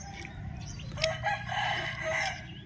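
A rooster crows near a house beside a village road, one drawn-out call rising over steady background noise, fairly close and clear, with faint chicken clucks around it.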